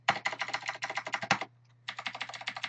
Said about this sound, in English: if I was typing along when I got to this point